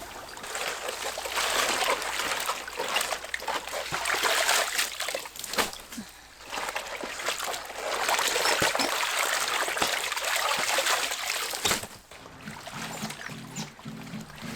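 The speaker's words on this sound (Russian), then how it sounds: "Растворяем половину соли в воде." Salt being dissolved in water for brining cabbage for kimchi: a steady splashing, trickling wash of water that fills most of the stretch, briefly dropping away near the end, with no talking.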